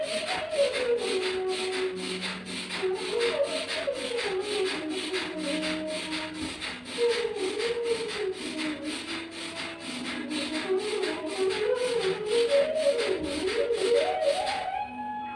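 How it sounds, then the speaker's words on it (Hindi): Forceful Bhastrika pranayama breathing during a sitting yoga session: rapid, evenly spaced bursts of breath continue steadily over a soft melodic background tune. "इसे हम लोग भस्त्रिका प्राणायाम ही नाम देते हैं।"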